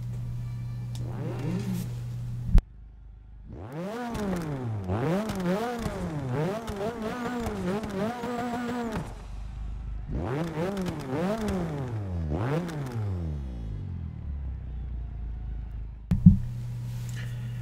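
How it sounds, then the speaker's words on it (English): A 1979 Opel Kadett with a turbo rally engine in the Forza 6 racing game revs repeatedly in sharp rising and falling bursts between idle stretches, loud and alone. "Now let's hear how this turbo rally motor sounds."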